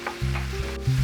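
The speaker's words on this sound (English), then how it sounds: "I can hear those green beans sizzling away" Green beans sizzle in an oiled frying pan, a brief, close crackle over a faint steady hum, with no voices.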